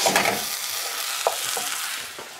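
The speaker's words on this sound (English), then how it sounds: "And I'm adding a little mirin for sweetness. Give that a good stir around." A spoon stirs a miso and mirin dressing in a bowl, a soft, scraping, swishing sound with a few light knocks, close and fairly quiet without talk.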